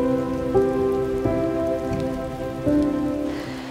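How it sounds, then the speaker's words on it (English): Rain falls steadily on the Milford Track mountain trail, a soft continuous patter beneath sustained musical tones. "The rain was bringing this powerful mountain range alive"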